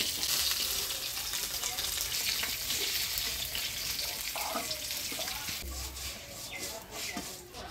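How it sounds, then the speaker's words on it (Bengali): Pabda fish fry in hot oil, a steady sizzle and crackle with faint clinks and a short low thump near the end. "মাছগুলো ভাজিয়ে নিলাম, এবার তুলে নেব।"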